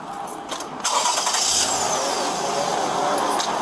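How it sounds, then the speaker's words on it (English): A car engine cranks and catches during a roadside police traffic stop, then settles into a steady, loud idle that fills the rest of the moment. "just want to turn the car on real fast to see, just to verify the headlight is"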